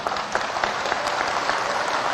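An audience claps steadily during a religious address, a dense continuous patter of many hands with a few sharper individual claps standing out near the front.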